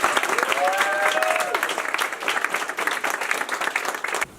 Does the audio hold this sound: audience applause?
yes